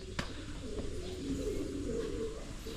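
Pigeons cooing inside a large aviary, soft low repeated coos over a constant background rumble, fairly faint and at a moderate distance.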